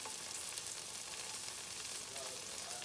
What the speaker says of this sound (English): I've got some regular butter going on over here. So we can saute some onions.